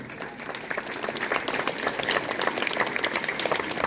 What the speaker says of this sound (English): Give a big round of applause for this occasion.